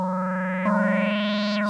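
A buzzy, harmonic-rich Akai MPC 3.9 synth note wobbles under sine wave LFO modulation, with a gliding pitch sweep near the end; steady and close with no voices.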